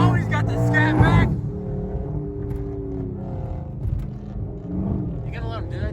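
A twin-turbo Mustang race car roars past, its engine note rising and falling across the pass as people talk loudly over it.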